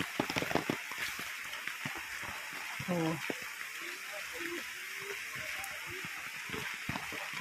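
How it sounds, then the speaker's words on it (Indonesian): Rain falls outdoors beside rice fields, a steady soft hiss with scattered patters and drips running throughout while people talk close by. "pas hujan-hujan nih."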